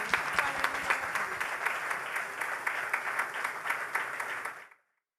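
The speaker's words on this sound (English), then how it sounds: "Let's give one final round of applause for our new Barry P. Gossett Director of Athletics, Jim Smith." Audience applause for new Barry P. Gossett Director of Athletics Jim Smith at his introductory press conference, steady dense clapping from a room of people that stops abruptly near the end.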